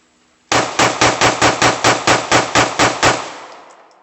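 A Glock 17 Gen 3 pistol fires about a dozen loud, evenly spaced shots in rapid succession at a shooting range, each sharp crack ringing briefly before the next.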